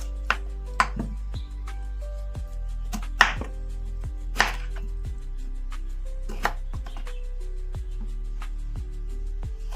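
Peeled tender jackfruit chopped into small pieces with a knife on a board, a series of sharp, distinct knocks at an uneven pace over a low steady hum, close and clear with no talk.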